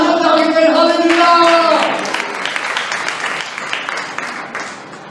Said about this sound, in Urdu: تالیاں بجا کے کہیں ہاللیلویا